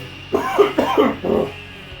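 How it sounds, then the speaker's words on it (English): Three harsh, throaty coughs follow one another closely, near and fairly loud, then a short quiet stretch. "No, don't cough out your lungs yet."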